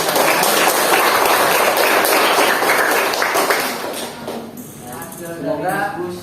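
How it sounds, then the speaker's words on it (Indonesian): Classroom applause from students at an Indonesian teacher-training session, a dense loud patter of clapping that fades after a few seconds into quieter murmuring and voices. "Bapak minta tepuk tangan dulu atas hasil diskusi kalian."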